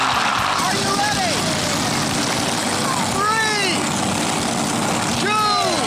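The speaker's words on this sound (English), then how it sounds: "we thought we'd have ourselves a little tractor pull." A tractor engine revs loudly for a farm tractor pull demolition, droning close and steady while a crowd cheers and whistles and people shout over it.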